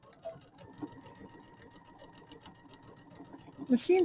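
Baby Lock sewing machine stitching pillow fabric in a steady, rapid needle rhythm with a faint motor hum, fairly quiet and close, with a brief clatter near the end.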